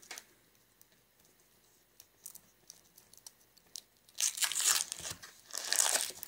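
A package of processed cream cheese being opened, with sporadic crinkles and small ticks that swell into two louder bursts of crunching, tearing plastic or foil near the end.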